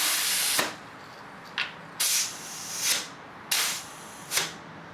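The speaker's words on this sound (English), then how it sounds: "So I'll use my adapter and my air compressor," An air compressor with an adapter pushes air into a tubeless bicycle tire in short loud hissing bursts, six blasts separated by brief pauses.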